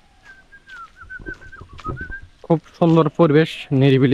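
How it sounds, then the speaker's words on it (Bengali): Birds call along a quiet forest path climbing toward Suptodhara waterfall: a thin, wavering whistled note holds for about two seconds, then a person speaks over soft background. "চারিদিকে পাখির ডাক, কিচির মিচির ডাক।"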